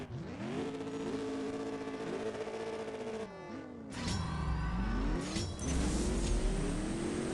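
Ford Mustang race cars in the CSR2 drag racing game rev hard and accelerate, rising engine notes climbing through gear changes with a brief pause, then a louder roaring surge, all fairly close and without talk.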